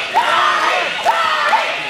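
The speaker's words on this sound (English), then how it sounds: "Crowd cheering on Boos." A wrestling crowd cheers and roars for Tony Boos, the Brooklyn Bulldog, a loud dense wall of voices with a few rising whoops swelling over it.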